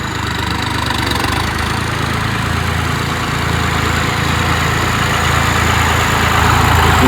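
John Deere and New Holland tractors running in gear on a farm, one in D second gear and the other in medium fourth, give a steady, loud diesel engine drone with low rumble and vibration that builds slightly, no talking.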